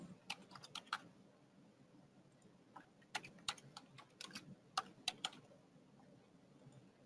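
Keys clacking on a computer keyboard while a form is filled in, bursts of quick clicks in irregular clusters with pauses between, close and fairly quiet over a low background hum.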